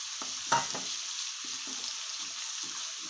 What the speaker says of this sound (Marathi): तर आता आपल्याला सगळ्यात आधी लसूण आणि अद्रकची पेस्ट टाकून घ्यायची आहे, मस्त परतावून द्यायची आहे।